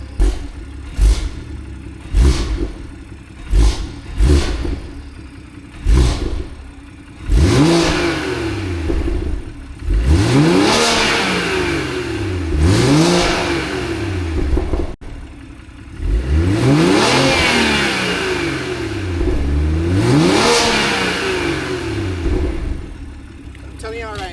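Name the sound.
BMW 340i engine revving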